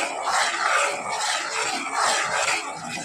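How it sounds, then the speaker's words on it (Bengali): Milk thickened with cornflour for orange payesh being stirred in a pan, a continuous close scraping and rubbing with an even rhythm. "গাঢ় না হয়ে আসা পর্যন্ত নাড়তে থাকতে হবে"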